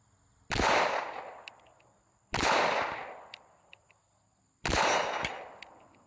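A Glock pistol fires remanufactured Glock Store house ammunition at an outdoor range: three loud, sharp shots spaced about two seconds apart, each with a decaying echo.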